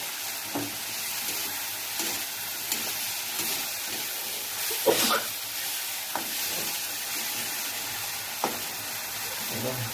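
Tomato and onion fry and get stirred in a pan over a medium flame, a steady close sizzle broken by scraping spoon strokes every second or so, with one louder stir near the middle.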